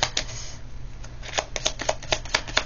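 Cards being shuffled in a tarot-style reading, a run of soft riffling flutters and snaps recurring at a quick, irregular pace, close and fairly quiet with no voice over them.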